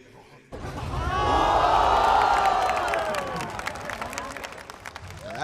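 A large arena crowd at the VALORANT Masters Tokyo swells into loud cheering and applause for ASE, rising quickly and then slowly fading, with a commentator talking over it.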